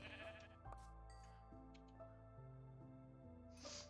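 Sheep bleating in the Minecraft video game, several game-style bleats in a row at a moderate level, with other soft game sounds in the background and no talk.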